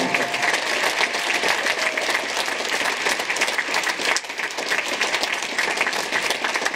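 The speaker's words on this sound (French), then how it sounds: "Applaudissez très très fort" Sustained, dense applause from a festival audience at a film festival closing ceremony, thanking the volunteer team; steady, loud and even throughout with no pauses.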